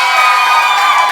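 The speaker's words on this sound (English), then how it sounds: "Give Annie a round of applause" An audience at a church service responds to the pastor's daughter Annie with a dense, loud crowd roar of cheering and whooping that fills the whole short moment.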